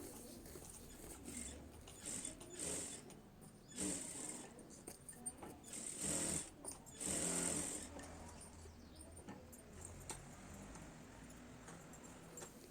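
A sewing machine stitches blouse lining in uneven bursts of fast mechanical whirring and clatter separated by short pauses, close but quiet, with no one talking.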